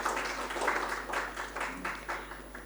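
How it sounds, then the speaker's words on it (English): An audience at a talk on youth climate action gives a round of applause to welcome a guest speaker, a steady wash of many hands clapping at moderate distance that holds for the whole stretch without fading. "Can we welcome him with a round of applause,"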